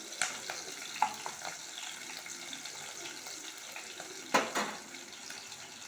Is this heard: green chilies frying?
yes